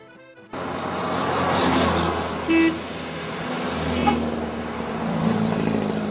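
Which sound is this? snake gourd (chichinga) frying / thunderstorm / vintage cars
vintage cars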